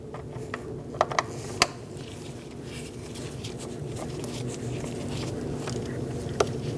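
A ratchet tightening a bolt on a Cadillac ATS 2.0L four-cylinder engine, a few sharp clicks early on over a steady low mechanical hum, close and fairly quiet.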